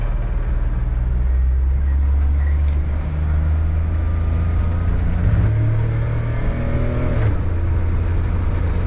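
A Daihatsu Mira picks up speed, its small engine droning loud and close with a rising whine inside the cabin and a brief shift partway through.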